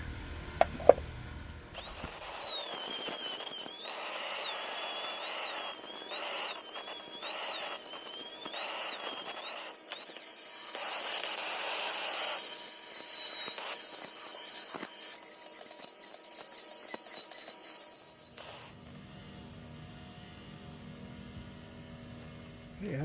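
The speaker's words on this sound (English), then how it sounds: "I tried drilling it on my drill press." A drill press bores into a workpiece with a high, wavering whine and squeal held for over fifteen seconds, fairly loud and close, before the motor winds down into a low hum.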